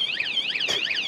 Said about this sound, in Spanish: Ah, tiene su alarma, ¿eh?